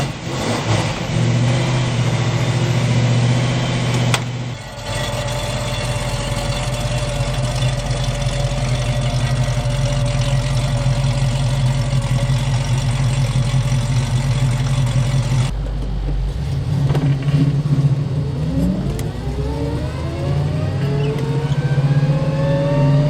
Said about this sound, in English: Let's take this car out for a ride.